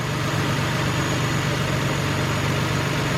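A 2003 Nissan Maxima GLE's 3.5-litre engine idles after a partial rebuild, a steady, loud, even rumble with a smooth continuous drone and no talking.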